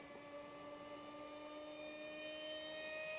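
An RC model MiG-35 jet, an NTM 2700 motor on 4S, screaming past at full throttle with a steady high electric whine that holds and swells slightly, loud and alone.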